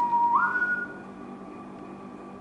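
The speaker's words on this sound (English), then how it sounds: "Sound, a whistle sound." A short whistle rises and holds briefly inside an old mill, a thin, moderately faint tone over a quiet, hollow room hum, and the room stays quiet afterward.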